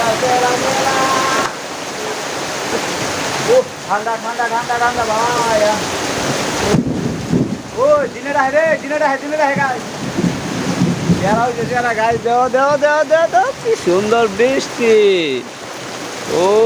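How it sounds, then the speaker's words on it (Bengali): Heavy rain pours down outdoors among trees in a dense, constant roar of falling water, loud and close, while people talk over it at intervals. "সুন্দর বৃষ্টি"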